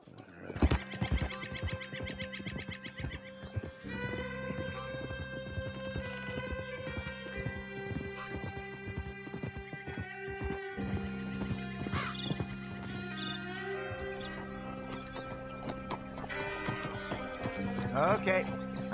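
A horse neighs and its hooves clip-clop in a Western outlaw setting, heard under a continuous bed of music, with the whinny and hoof beats mixed among sustained tones throughout.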